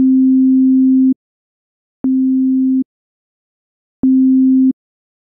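Pure sine tones played together as one steady, clean pitch, sounding in three separate bursts of about one second each with silent gaps between, loud and alone.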